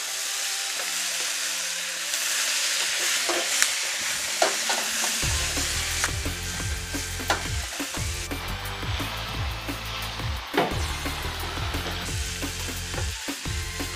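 Beef sizzling and frying in a hot pan, with scraping and clattering of a utensil stirring it, steady and close throughout.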